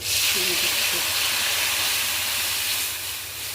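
Boiled lentils hitting a hot pan of lightly fried taro with salt and turmeric, giving a loud, steady steam hiss and sizzle throughout that eases slightly near the end.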